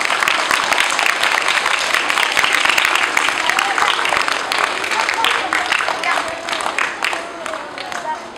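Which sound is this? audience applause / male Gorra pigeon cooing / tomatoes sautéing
audience applause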